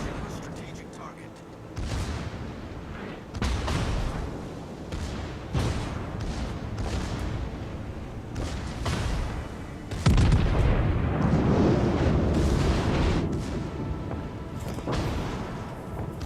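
Battleship-caliber naval guns firing in World of Warships, with loud booming salvos repeating every couple of seconds under ongoing voice chatter and game ambience.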